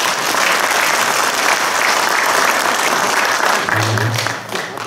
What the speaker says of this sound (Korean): 우리 다 같이 큰 박수 한번 보냅시다.